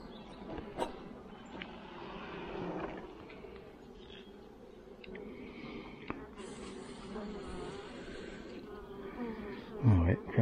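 Honeybees buzz around an opened hive during a spring inspection, a continuous close, droning hum with individual bees passing near and occasional handling knocks.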